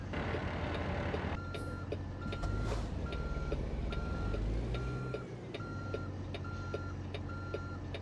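Truck reversing beeps from a truck backing a trailer in American Truck Simulator, evenly spaced electronic beeps repeating steadily over a low engine rumble, clear and close.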